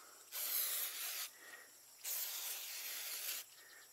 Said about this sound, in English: other than just spraying them off a little bit